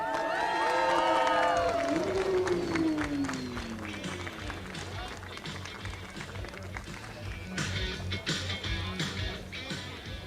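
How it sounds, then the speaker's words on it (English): A crowd at a Porsche Carrera Cup Middle East race cheers loudly, with whoops and shouts that fade into scattered clapping and applause around the podium, voices chattering throughout. "let's give them a little cheer"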